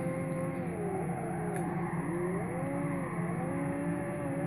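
In Gran Turismo 5, a Subaru drifts with a constant engine roar while its tires squeal in wavering, rising and falling tones, with no talk over it.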